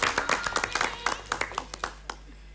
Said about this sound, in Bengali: একবার জোরে হাততালি হয়ে যাক